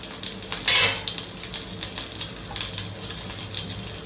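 Oil sizzles steadily in a small pan while tempering for chintakaya (tamarind) rasam, a constant close hiss with a brief louder spurt near the start.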